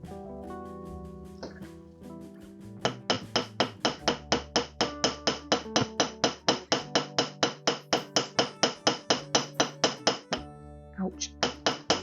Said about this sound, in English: See if we can hammer them all in one go